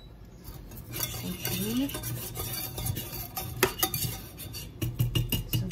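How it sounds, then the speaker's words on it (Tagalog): A whisk stirs butter in a pan over a slow fire, producing light scraping and clinking of metal against the pan with irregular taps, close by, with a brief spoken word. "The whisk. I use the whisk."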